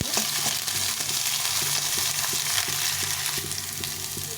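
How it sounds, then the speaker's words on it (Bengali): Potatoes fry in a pan in a home kitchen, giving a steady close sizzle with light clicks and scrapes of stirring and no talk over it. "একটু সামান্য একটু আলু ভেজে নেব"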